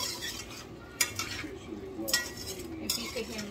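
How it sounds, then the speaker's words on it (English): A spoon stirs potato into bora curry in a pot, giving a few soft scrapes and clinks against the metal at an unhurried pace, fairly quiet over a low background murmur. "I'm gonna add my potato to my bora. And I'm gonna give it a stir."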